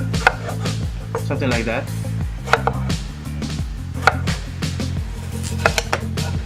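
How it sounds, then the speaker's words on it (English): Knife chopping tomatoes into bite-size pieces for a pork belly stew, a steady run of sharp cuts against a board with a person talking briefly over the work. "So I'm gonna start with the tomatoes. I'm gonna cut them bite sizes."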